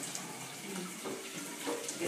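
Hot tap water runs steadily over a handmade ceramic pottery water filter, a continuous close splashing rush with small shifts in flow and no talking.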